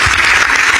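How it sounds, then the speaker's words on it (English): An audience breaks into a short, loud, dense burst of applause that fills the room with continuous clapping. "Can we put our hands together for"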